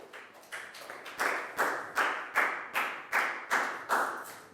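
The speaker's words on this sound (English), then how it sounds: "High five and a big round of applause for Pat, please, guys." A steady round of applause, sharp rhythmic claps repeating in even bursts, close by and fairly loud, with no talking.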